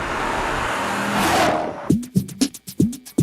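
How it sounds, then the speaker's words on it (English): Dodge Challenger SRT8 with a Hemi V8 engine: a loud, steady exhaust roar for nearly two seconds, then a run of sharp revving blips in quick succession, close by. "Tremendous exhaust note, just ballsy and hard."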